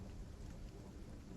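Steady rain ambience with a low rumble of thunder, a dense continuous wash of falling water and deep storm noise filling the background, fairly quiet and even throughout, no voices.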